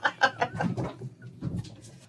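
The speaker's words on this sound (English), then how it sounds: "if you guys hear a crazy thing in the background, that's a cat" A cat makes strange, squawking, bird-like calls, several short cries in quick succession up close, then trailing off into quieter, higher sounds.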